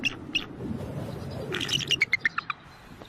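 A female eagle in snow calls to her mate with a run of sharp, high chirping cries that quicken near the end, heard fairly close over a soft background hiss.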